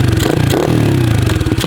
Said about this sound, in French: Ça fait vraiment le bruit d'une YCF